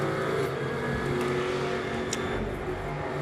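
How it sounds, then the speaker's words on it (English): Onboard engine noise from the Schrader Motorsports Pro-Am Mercedes GT4 race car during qualifying at Misano: a steady, fairly subdued drone with no clear gear changes. "Riding on board with Jan Reinig in that treble 7 Schrader Motorsports Pro-Am class Mercedes."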